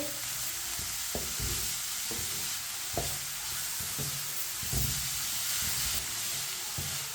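A spoon stirs chicken cooking in a pan over medium heat, scraping in a steady rhythm of knocks and scrapes over a continuous close sizzle, with no voices.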